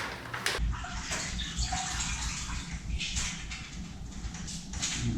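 Running water from a shower spatters and hisses steadily close by, with a few brief knocks and shifts in the spray.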